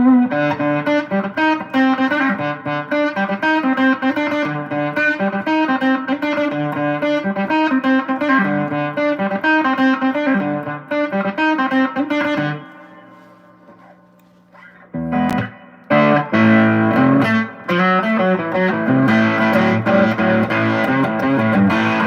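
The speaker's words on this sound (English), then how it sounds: "David, it's just reverb on the amp currently." Electric guitar played straight through a 5-watt tube amp with only its built-in reverb, strummed chords ringing loudly for about twelve seconds, a brief near-quiet pause, then more loud playing.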